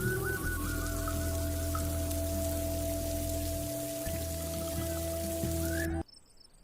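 Stormy rain pours in a village, a steady hiss of falling water under sustained low droning tones, cutting off abruptly near the end.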